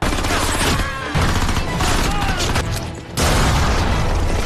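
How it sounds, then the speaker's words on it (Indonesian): Dense, sustained gunfire from a film's mercenary battle scene, rapid bursts and heavy booms, loud and chaotic, with little pause throughout. "Tembakan dari tim tempur mereka hampir mengenai Barney dan skuadnya"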